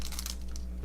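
Foil wrapper of a 1991 Classic baseball card pack being cut open, a short close crinkling and crunching rustle lasting under a second, alone with no talk.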